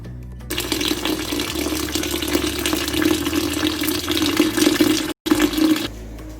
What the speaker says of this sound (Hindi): इसके बाद हमने इसके ऊपर ठंडा पानी डाल दिया था ताकि आपस में जुड़े ना